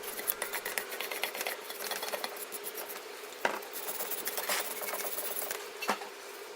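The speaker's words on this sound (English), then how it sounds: "Give it a good wire brushing to remove it" Wire brush scrubbing brake dust off a front brake carrier on a Vauxhall Antara, a steady scratchy bristle rasp in quick repeated strokes, close and continuous with a few sharper knocks.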